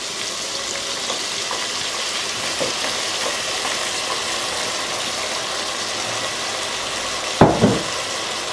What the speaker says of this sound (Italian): Sfumiamo con un po' di vino.